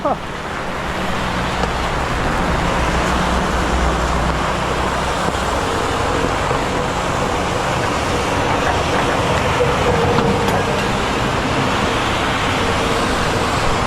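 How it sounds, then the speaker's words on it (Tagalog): Heavy rain pours down in a dense, steady roar that fills the whole clip and stays loud and unbroken throughout. "Malakas yung ulan mga kanoipi."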